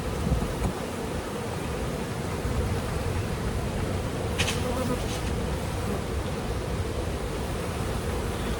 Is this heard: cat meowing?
no